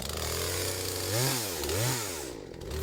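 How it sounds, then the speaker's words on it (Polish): A chainsaw runs loud and close while cutting a wood branch laid across two sawhorses, its engine droning steadily and rising twice in revving surges, with no talking. "Odpalę moją niezawodną piłę."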